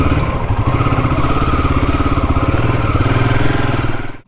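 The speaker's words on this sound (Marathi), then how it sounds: "किती दिवसानंतर आज मी बाईक चालवतो आहे." A motorcycle engine running near the microphone after starting up in Mumbai, a loud, even thudding putter with rapid regular pulses that holds steady for a few seconds before cutting off abruptly, no speech.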